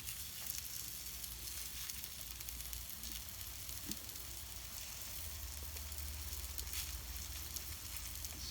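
Sausages sizzling on a caravan barbecue grill, a continuous crackling hiss of fat frying, steady and close with a low hum underneath and no talk.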